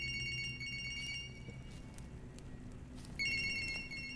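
In a Siren Head video game, a faint electronic phone ringtone mimicked by the creature repeats in short bursts, dropping out briefly before returning a little louder.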